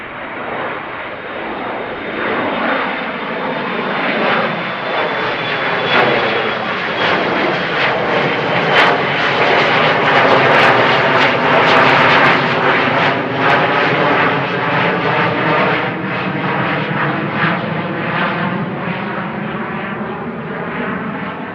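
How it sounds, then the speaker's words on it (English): A United Boeing Dreamliner taxis at Amsterdam Schiphol Airport, its engines holding a steady, loud, broadband roar with a faint whine, continuous for about twenty seconds. "The United, at least, already visible, taxiing to the runway threshold."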